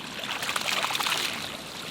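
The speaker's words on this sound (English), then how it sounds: "watch what happens every time you flush the toilet" A toilet flushes as sludge backs up through the pipes, a gurgling, sloshing rush of water at moderate volume that swells and fades over two seconds.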